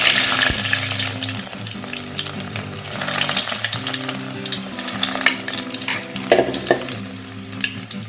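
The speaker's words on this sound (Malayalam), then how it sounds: "ഇനി നമുക്കിതിലേക്ക് ഇഞ്ചിയും വെളുത്തുള്ളിയും ചെറുതായി അരിഞ്ഞത് ചേർത്ത് കൊടുക്കാം." Chopped ginger and garlic frying in hot oil after mustard seeds, for a Kerala-style prawn roast, with a steady loud sizzle and occasional stirring scrapes throughout, no talk.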